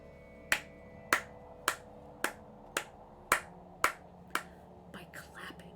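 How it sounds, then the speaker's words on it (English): Slow, deliberate hand clapping: eight sharp, evenly spaced claps ring out close by, followed by a few softer, quicker taps at the end. "By clapping."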